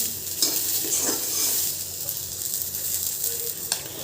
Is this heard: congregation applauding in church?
no